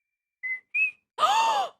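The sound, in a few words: person whistling, imitating a character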